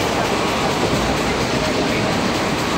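A steady, loud rumble of a running passenger train fills the space, an unbroken wash of wheel and carriage noise heard from inside without any clear pauses.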